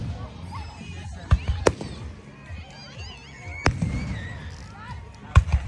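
Fireworks bursting at a Canada Day celebration, several sharp bangs scattered a few seconds apart, the nearest ones loud, over steady crowd noise and people talking.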